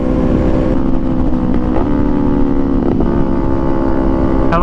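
A Kawasaki Z400 motorcycle engine runs loud and close, revving up and settling with a sharp pop or two from the exhaust, no voices over it.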